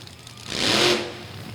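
Big black Chevy drag racing car at a drag strip event, its engine swelling into a loud, brief rev that peaks and fades within about a second over a steady background rumble.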